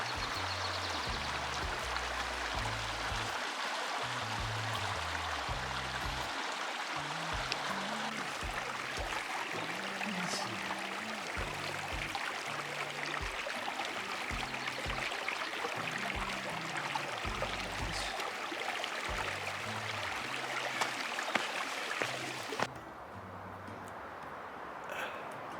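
Weber Creek flowing along the Arizona Trail, a steady broadband rush and trickle of running water heard close and continuous, with low wind rumble underneath until it drops off abruptly near the end.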